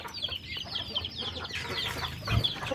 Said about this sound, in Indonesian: Ayam pun sedang bercengkerama mencari makan